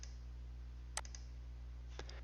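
Two sharp, isolated clicks about a second apart from a computer mouse button while working in road-creation software, set against a steady low electrical hum.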